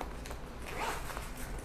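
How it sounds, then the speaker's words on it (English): A zipper on the back of a Quantum Q6 Edge 3 power wheelchair headrest is pulled in one short, close rasping stroke over a quiet room, with no speech. "There's a zipper back here"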